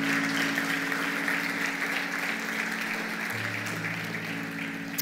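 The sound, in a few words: applause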